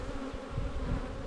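Honeybees buzz densely in a crowded, very active hive opened for inspection, a steady close and full hum with no voices.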